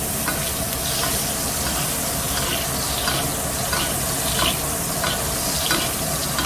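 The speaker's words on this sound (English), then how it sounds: "We take a little bit of butter we got in there as well. Put it around the pan. And then we'll start basting that steak." A steak basting in butter in a hot pan, a loud, dense, continuous sizzle with repeated soft whooshes as the spoon pours butter over the meat, close up with no talk.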